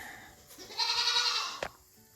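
A newborn baby goat bleats in a long, wavering cry alongside its mother goat, one sustained call followed by a brief sharp sound, close and fairly loud with no talking.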